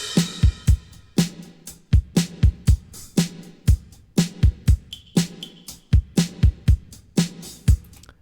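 An electronic drum track plays alone, kick and snare hits punching out a steady, busy groove of sharp close transients with brief tonal blips between them, no voices over it.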